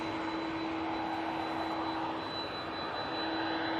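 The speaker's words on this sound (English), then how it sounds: "that lovely E2 now lining up" An Embraer E2 jet airliner lines up on the runway at Manchester Airport, its engines giving off a steady, even hum with a constant high whine over it, heard from a distance.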